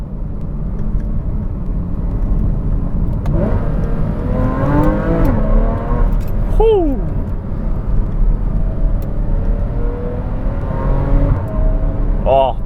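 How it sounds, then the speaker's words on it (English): A Porsche 981 Cayman S with F1 headers revs hard above 4000 rpm, its engine rising and falling through loud, continuous sweeps from inside the car, while a voice exclaims briefly. "when we get above 4K revs, it really starts to scream and sounds so good"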